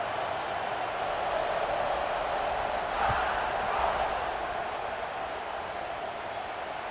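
A large stadium crowd in EA Sports College Football 26 sends up a steady, broad roar that swells briefly near the middle and holds at a constant level, with no voices standing out.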